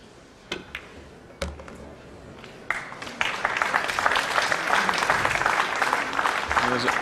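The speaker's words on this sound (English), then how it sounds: "There's almost grudging applause there" Subdued crowd applause at a 9-ball pool match, starting with a few isolated claps before building into a moderate, steady patter of clapping from the audience.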